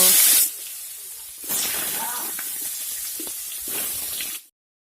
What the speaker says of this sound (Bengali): এই তেলের মধ্যেই দুইটা আলু লম্বা লম্বা করে কেটে নিয়েছি এগুলি বেজে নেব